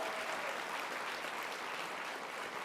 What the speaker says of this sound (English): One more round of applause for these outstanding nurses.